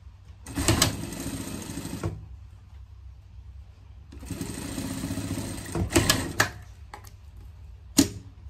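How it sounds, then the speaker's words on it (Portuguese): A sewing machine stitches a seam on a fabric pet seat cover, running in two steady bursts of a few seconds each, close and alone, followed by a few short clicks and a sharp tap. "Vai passar uma costura aqui"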